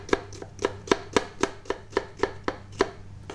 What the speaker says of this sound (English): I'm going to chop up some white onion